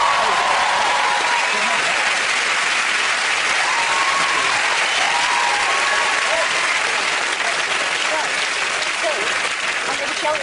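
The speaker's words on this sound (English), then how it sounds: "that is worth a round of applause" A studio audience claps and cheers in a dense, sustained burst of applause that stays loud and even from start to finish.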